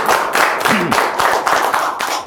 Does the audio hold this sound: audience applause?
yes